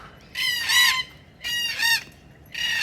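Red-tailed black cockatoos give loud, harsh, honking calls in a rhythm of two-part bursts separated by short gaps, close by and outdoors with no talking.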